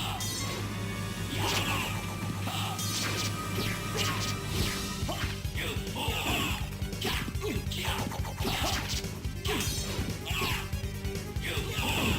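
Repeated crashing, thudding impacts from Richter slamming the player character against a wall in Symphony of the Night, a steady flurry of hits under busy game music with occasional voice.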